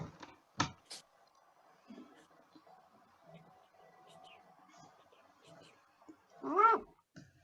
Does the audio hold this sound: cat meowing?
yes